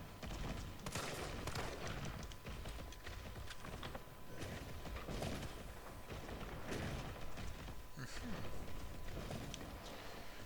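Gunfire in the video game Resident Evil 3 comes as rapid, repeated shots and thuds in a dense, busy game mix, with a player's voice talking in places.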